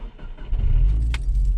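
A car engine cranks and fires up after a key turn, with a brief jingle of keys near the middle, then a steady low idle rumble settling in close by.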